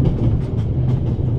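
A train in a video game rolls steadily along rails with a continuous low rumble and faint rhythmic clatter, loud and even throughout, with no speech.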